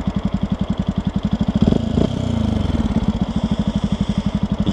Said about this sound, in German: Und der Auspuff hat so einen schönen Klang.